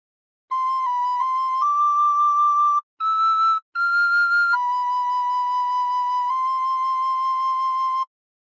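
Recorder playing a slow phrase of How Great Thou Art, clear pure whistling tones held one after another with a brief gap midway, close and alone without talk.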